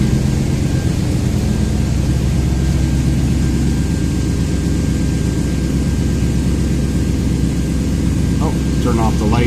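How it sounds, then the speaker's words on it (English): A 2000 Toyota Tundra engine idles with a steady, close low rumble after a new ignition coil has cured a cylinder 3 misfire, and a voice briefly breaks in near the end. "And now the engine's running."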